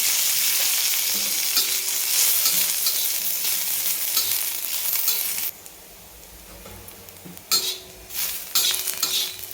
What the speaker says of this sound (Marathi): ह्याला पण सोनेरी कलरवर भाजून घेऊ. थोडंसं ह्याला पण तेल टाकते.